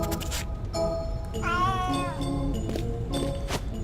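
A cat meows once with a drawn-out, wavering cry in the game A Vampyre Story, set against a steady game background hum with no talking.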